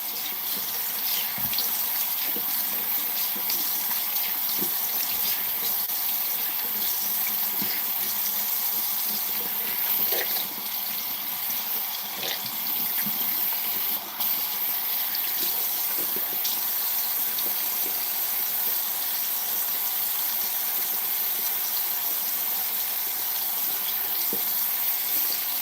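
Tap water runs steadily into a sink while an arm is washed, a loud, continuous close-up splashing rush that holds without pause and with no talking.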